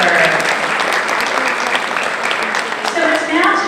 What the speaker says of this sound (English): let's give a round of applause for every birthday that our children deserve